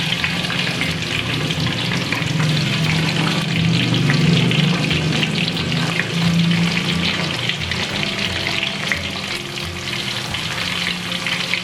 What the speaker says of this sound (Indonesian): Kemudian kita goreng. Nah, ini yang udah direndam ya.